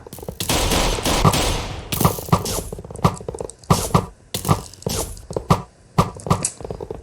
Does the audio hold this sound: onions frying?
no